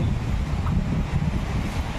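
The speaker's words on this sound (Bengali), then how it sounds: "দেখেন এখনো কত জোরে হাওয়া মারতেছে।" Strong winds of Cyclone Remal batter a home, giving a continuous heavy roar with rough buffeting on the microphone that runs loud for the whole stretch, with no voices.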